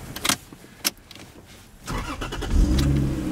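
A Lexus IS300 suspected of having a blown engine cranks and catches partway through, then settles into a close, loud, steady run after some earlier knocks and handling noises.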